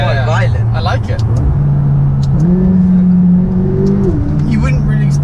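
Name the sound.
McLaren sports car engine revving while driving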